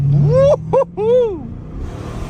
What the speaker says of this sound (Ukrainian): Але робить він бурнаут чи ні?